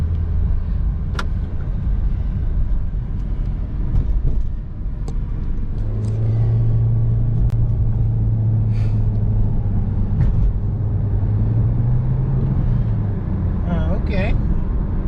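A Nissan Juke with a CVT transmission drones steadily from inside the cabin, its low engine tone swelling and rising in pitch partway through as the car gathers speed, with continuous road rumble underneath.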